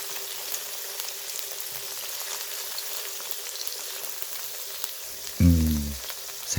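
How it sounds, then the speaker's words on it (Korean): Tofu pieces frying in a pan give a steady close sizzling hiss as they are turned one by one, with a brief low clunk near the end. "두부를 하나씩 뒤집으면서 잘 굽습니다."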